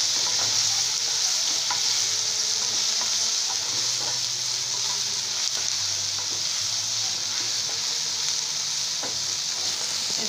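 Chili powder being stirred into a tomato and onion masala frying in a pan for aloo masala sandwich filling, a steady loud sizzle with scraping spoon strokes throughout, no voices.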